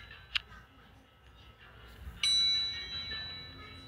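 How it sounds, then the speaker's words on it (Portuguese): Two bright bell dings ring out in a burger restaurant video game, the first short and the second longer and ringing on, over a faint background hum. "Tem uma moça tocando sino."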